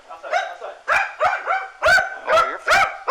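A dog barks in a series of sharp, loud yelps and barks, about eight in quick succession with some whimpering tones between them, close by with no talking over it.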